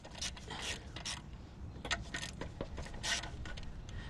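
Wrench work removing 10mm bolts from the throttle body of a 2007 Pontiac G6 2.4L Ecotec, faint metallic ratcheting clicks and clinks in short irregular bursts close by, with no talk.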